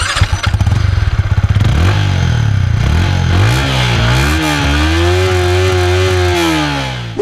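A Yamaha XSR 155 motorcycle engine idles with a rapid, pulsing throb, then revs up and down in several swelling blips before settling into a sustained higher rev, loud and close.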